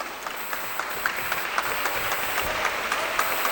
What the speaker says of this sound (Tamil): வயலின் டீமுக்கு தான் நிறைய கைத்தட்டல்கள் வருது